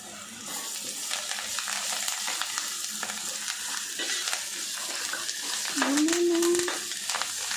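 Chicken curry with turmeric and curry leaves stirred in a pan over a medium flame: a steady soft sizzle with the scrape of a spoon, and a short voiced sound near the end.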